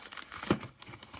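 LEGO Vidiyo blind bag packaging torn open by hand, without scissors, giving a short crinkling, ripping rustle of plastic with one sharper tear burst midway, close and fairly quiet.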